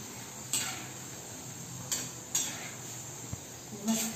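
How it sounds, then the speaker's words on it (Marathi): Gilka bhaji, urad papad and papad chakli fry in oil with a quiet background sizzle, broken by a few sharp clinks and scrapes of a utensil against the pan. "आता हे सगळं मी त्यात तळून घेते"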